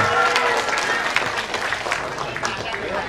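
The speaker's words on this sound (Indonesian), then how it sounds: "tepuk tangan." A crowd at an agricultural technology expo in Pacitan, Indonesia, applauds with steady, dense clapping throughout, mixed with voices and background chatter.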